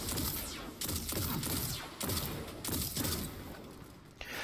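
Rapid bursts of gunfire in the Destiny shooter game, several loud volleys in quick succession separated by short pauses.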